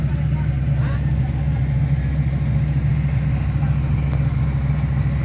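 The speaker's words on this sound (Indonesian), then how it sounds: "Nah, ini dia motor Revo." A Honda Revo motorcycle engine idles beside an excavator pulling a pontoon, a steady, loud, low hum that runs unbroken through the whole stretch.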